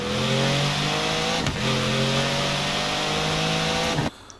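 A car engine in Forza Horizon 4 screams at full throttle, a loud sustained high rev with rising tones through quick gear shifts, cutting off abruptly near the end.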